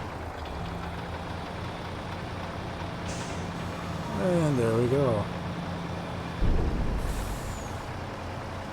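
A grain truck in Farming Simulator 22 idles with a low steady engine hum, then gives a sharp hissing air-brake release and a second burst of air later; someone speaks briefly over it.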